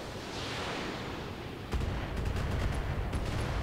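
Gauss rifle fire against a turret in the RogueTech mod of the BattleTech game: a low rumbling bed of battle noise, then a heavy boom that sets off a louder stretch of repeated impacts and crackling blasts.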